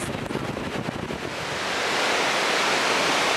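Ocean surf whipped up by strong wind at Cherry Grove Pier, a loud, continuous roar of breaking waves that swells into a steady wash of spray and gusting wind, with no voices.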